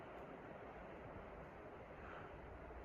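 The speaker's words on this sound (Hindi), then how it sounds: "1 सेकंड के लिए नदी की बहती हुई आवाज़ को सुनिए" River flowing at night near Marchula village in Uttarakhand, a steady broadband rush of water, constant and fairly faint, with no voices.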